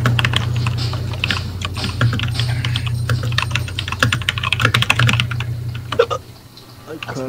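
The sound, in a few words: typing hard on a computer keyboard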